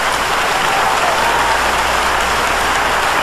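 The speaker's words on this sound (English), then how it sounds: "So give yourself a big round of applause for all your support." Steady, dense applause from an audience fills the whole stretch at a constant, fairly loud level, with no pauses and no clear voices on top.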